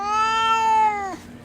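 A cat lets out a single drawn-out meow, clear and fairly loud, that rises slightly and then drops off sharply at the end, with faint background noise and no talking.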